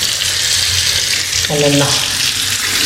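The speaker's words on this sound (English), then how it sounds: "now we come to the mixer shower taps over here" Water running from mixer shower taps in a bathroom being made over, a loud, steady rushing hiss filling the whole stretch, with a short spoken phrase partway through.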